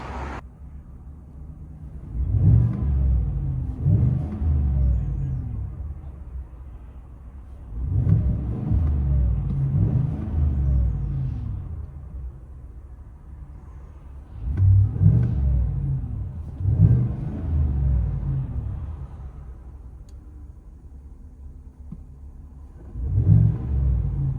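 Muffled from inside the cab, a 2026 Chevy Silverado 5.3L V8 with a Borla Touring cat-back exhaust drones low and swells in repeated revs, each building then easing back to a steady rumble.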